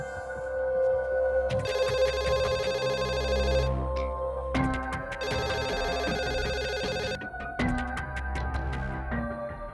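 A telephone bell rings in a TV drama scene, loud and close, in repeated bursts separated by short pauses, with no voices.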